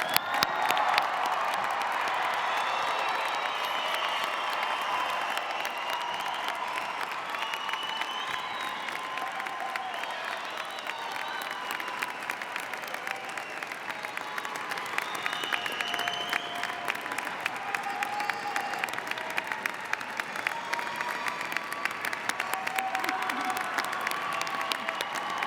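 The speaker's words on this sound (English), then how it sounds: "join me in giving all of our graduates a well-deserved round of applause" Sustained applause from a large audience for graduates at a fall convocation ceremony, steady and dense for the full length with a faint undertone of cheering, heard alone without speech.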